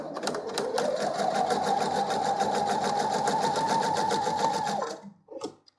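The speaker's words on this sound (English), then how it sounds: "I'm going to be stitching 1/4 inch in from the side." A sewing machine runs a quarter-inch seam along pieced coaster blocks, a fast, even mechanical whir of stitching for several seconds that stops abruptly, followed by a brief clack.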